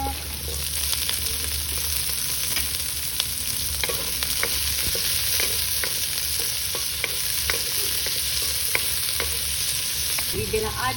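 Pork sizzles and fries steadily in a pan, with occasional clinks and scrapes of stirring close by, for ginisang patola with mushroom.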